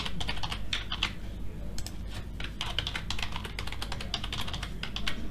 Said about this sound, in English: Type in your new password.